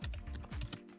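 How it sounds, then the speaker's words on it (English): Quick computer keyboard typing, a short burst of several close, soft key clicks in irregular rhythm, with no speech. "So what you would do is you would start typing in St."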